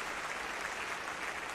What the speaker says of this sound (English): Thank you very much for the claps.